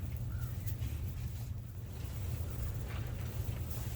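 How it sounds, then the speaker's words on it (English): Heavy wind blows outdoors, buffeting the microphone with a low, steady rumble and faint gusty hiss throughout, no talk over it. "The wind's blowing pretty heavy."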